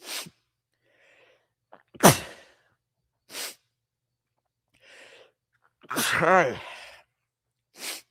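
A single sharp sneeze bursts out nearby amid quiet breaths and short sighs, with long silent gaps between sounds.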